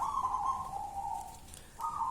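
A Katulamben lurah perkutut, a zebra dove, coos in a steady drawn-out call that fades after about a second and a half and then starts again. The bird sounds fairly close over a quiet background.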